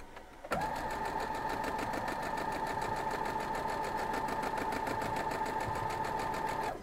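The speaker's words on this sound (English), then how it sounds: "And we're going to sew them." Sewing machine stitching quilt block pieces, a steady close mechanical whir with fast even needle rhythm running continuously after a quick start.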